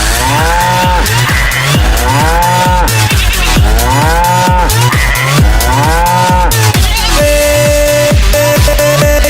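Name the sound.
cattle mooing at a cow market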